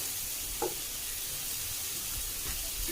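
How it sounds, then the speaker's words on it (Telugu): Curry leaves hit hot oil in a pan and sizzle, a soft, steady hiss with a couple of faint pops, heard close at low volume. "ఇప్పుడు కరివేపాకు వేస్తున్నాను."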